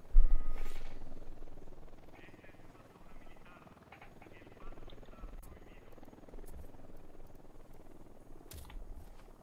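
A helicopter in the video game Ghost Recon Wildlands drones at moderate volume amid scattered gameplay effects, with a faint voice in the background.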